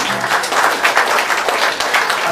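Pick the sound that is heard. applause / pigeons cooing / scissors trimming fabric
applause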